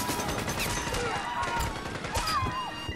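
Gunfire from a helicopter in an action film, rapid bursts of shots mixed with crashes and whistling effects under busy soundtrack noise and faint voices.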